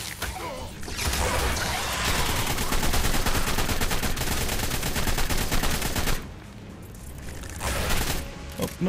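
Sustained rapid gunshots in the survival game Ark on the Fjordur map, a loud, dense volley of repeated shots for several seconds that drops off, then a final short burst.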